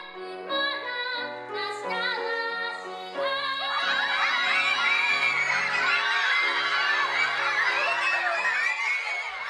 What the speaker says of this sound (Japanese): 会場に湧き上がる喜びの悲鳴